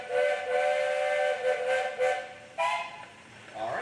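Steam traction engine whistle at a steam show, a loud, sustained, harmonic tone with short breaks and a higher restart, followed by hissing steam.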